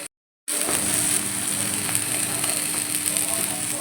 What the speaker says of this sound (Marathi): त्याचं वाटेला टर्न करून घ्यायचं आणि बटर घालायचं